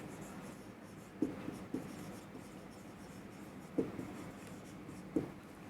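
Pen writing by hand on paper while preparing a realisation account, a steady soft scratching texture broken by a few distinct taps as strokes begin, close and quiet with no talk.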